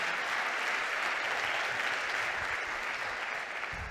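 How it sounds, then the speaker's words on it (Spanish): Steady applause from a conference audience for a speaker's presentation at an energy policy event, dense and even throughout, with no voices over it. "Y este aplauso es para ti"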